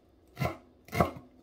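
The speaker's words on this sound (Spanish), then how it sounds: "Voy a picar primero el cilantro." Two separate chopping strokes of a knife through fresh cilantro on a cutting board, close and fairly soft, each a short dull thud with a leafy rasp.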